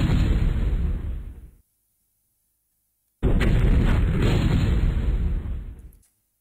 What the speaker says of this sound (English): An airstrike again.